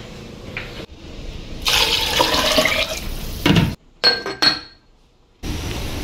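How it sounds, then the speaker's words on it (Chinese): Water poured into a soup pot holding ginger and wild lingzhi, a steady splashing stream for a couple of seconds, then clinks of the pot and a brief second run of water. "加水。"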